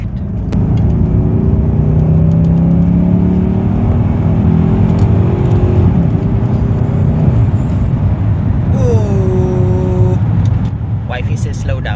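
Chevrolet Lumina SS accelerating hard, the engine note rising steadily through a gear with a shift near the end, loud and close from inside the car, with voices briefly at the end.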